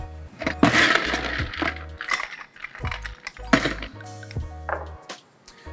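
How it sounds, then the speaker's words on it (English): Ice cubes clatter into a mixing glass holding Negroni ingredients, including Campari, in a series of close, loud cracks and clinks that come in bursts over several seconds, with no talking. "Now all we do is add ice, and we're going to stir this."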